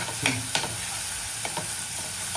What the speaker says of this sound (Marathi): पेस्ट मस्त थोडीशी हलकी परतून घ्यायचं आहे बघा आणि चम्मच ओढून